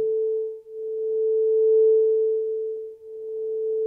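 A clear, steady pure tone from a tuning fork hums continuously on one pitch, alone, with slight swells and dips in loudness.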